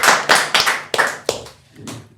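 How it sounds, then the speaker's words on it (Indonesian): Hand clapping by one or two people nearby, about five or six sharp, loud claps in an uneven rhythm, each decaying quickly, with a softer trailing clap at the end and no talking. "tepuk tangan dulu dong"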